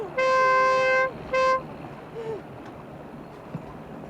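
A boat horn in the film Jaws 2 sounds one long blast, then a shorter second toot, loud and near, over a low rumble of water and engine noise.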